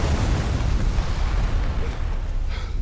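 A car blown up by a C4 charge in a TV series, heard as a dense, loud, sustained roar of explosion noise with heavy low rumble, carrying on for several seconds without a break.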